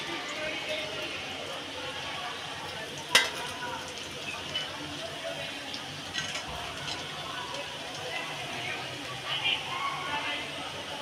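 Bhetki fish cutlets fry in oil with a soft, continuous sizzle at moderate distance, broken by a sharp clatter and a few light knocks, while a voice speaks over it.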